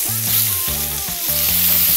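Bacon strips sizzling and spitting in a hot frying pan while breakfast is cooked, a loud, steady, close crackling hiss that carries on throughout with no voices.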